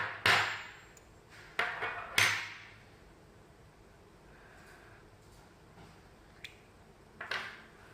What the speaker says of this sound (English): Using the two wrenches from the accessory kit, unscrew and disassemble the nozzle.